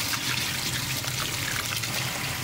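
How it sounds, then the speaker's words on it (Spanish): Water drains steadily from washed rice through a small hole in the bottom of a strainer, a continuous loud trickling and pouring close by, with no voices over it. "Ve cómo el agua va saliendo, porque esto tiene un huequito acá abajo, entonces sale el agua."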